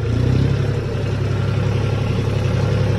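A tractor engine idles and runs steadily close by, a continuous low rumbling drone with faint mechanical clatter and no voices.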